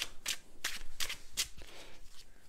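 A deck of blacksmith cards from a tabletop board game being shuffled by hand, with five or six crisp riffling bursts in a quick irregular rhythm, close and fairly quiet, without talk.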